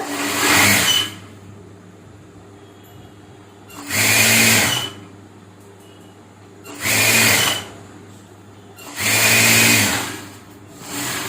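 A sewing machine stitches folded blouse fabric in four loud bursts of steady whirring, each about a second long, separated by quieter pauses with no talking.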